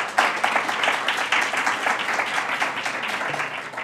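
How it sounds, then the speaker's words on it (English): An audience at a public policy talk on schools in New York City breaks into loud, sustained clapping that stays dense and even throughout, with no voices heard. "He does deserve a round of applause."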